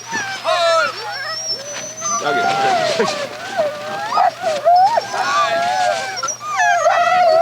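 Sled dogs whimpering, whining and yipping in eager high cries, with occasional barks, loud and close, while a person calls out commands over them.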